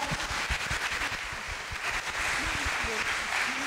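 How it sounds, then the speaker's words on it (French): Conference audience applauding the three speakers after an elder-isolation debate, a scattered, moderately quiet patter of claps with a voice talking over it. "On peut applaudir chaleureusement, s'il vous plaît, nos 3 intervenants."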